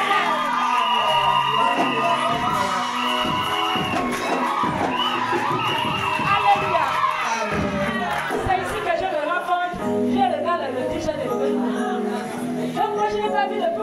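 A French church congregation cheers and shouts acclamations to God: a loud, sustained mass of overlapping voices with whoops and yells that carries through the whole stretch.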